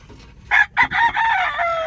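A rooster crows close by in a loud, drawn-out call broken into a few bursts, with chickens around it on the farm.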